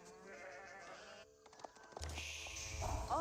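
Sheep bleat in the real-time strategy game Age of Empires 4, several wavering calls over layered game sounds that later grow busier with clicks and rising effects.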